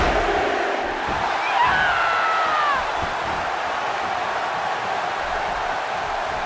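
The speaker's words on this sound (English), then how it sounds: "by the sounds of it, this crowd is ready for anything that happens tonight" Arena crowd in the WWE 2K17 wrestling video game, a steady roaring wash of cheering and yelling with a brief louder swell, continuous and moderately loud throughout.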